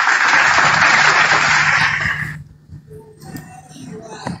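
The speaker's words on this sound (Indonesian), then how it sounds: "Tepuk tangan dulu buat saudara Sweet." A live audience applauds for about two seconds, dense clapping that cuts off abruptly, followed by quieter talk.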